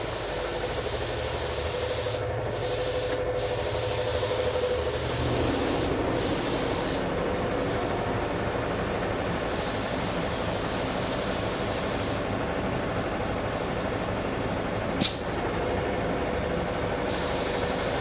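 An automotive spray gun lays a second coat of paint on a 2007 Mustang hood with a continuous, loud airy hiss, broken by a few short pauses between passes.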